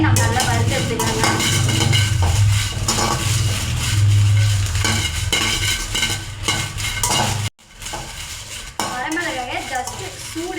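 Dried red chillies are dry-roasted in a pan for biryani masala, heard as a steady, loud metallic scraping and rattling of a spoon stirring against the pan, with brief pauses.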